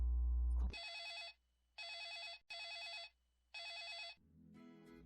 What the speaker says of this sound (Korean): 잠깐만요. 전화가 왔나봐요.